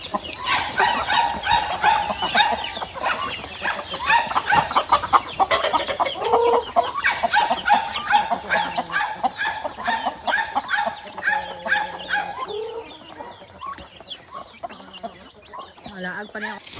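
A flock of chickens on a family farm clucks loudly and busily, with dense overlapping calls that thin out toward the end and a few voices mixed in.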